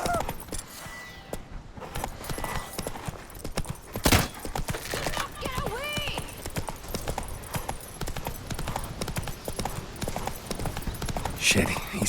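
Roach the horse gallops in a steady clip-clop through The Witcher 3: Wild Hunt, hooves pounding throughout under music and game effects, with a brief whinny and voices talking over the ride.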